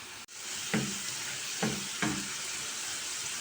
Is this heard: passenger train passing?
no